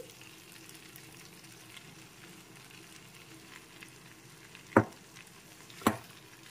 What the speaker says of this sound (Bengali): এর মধ্যে আমি সিদ্ধ মোচাটাও তুলে দিচ্ছি।